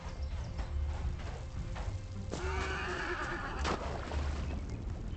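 A horse in the video game Hytale whinnies over steady game ambience and background noise, the call standing out briefly near the middle.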